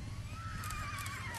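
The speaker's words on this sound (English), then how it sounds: "did you hear that whinny?" A horse whinnies loudly and close by in a stable at feeding time, with a long, wavering neigh over steady background noise.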